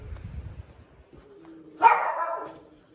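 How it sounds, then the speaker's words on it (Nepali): A dog barks at Sandakpur in Nepal: a single short burst of barking and yelping at moderate distance rises out of a quiet outdoor background. "डगी त भुक्दैछ यता"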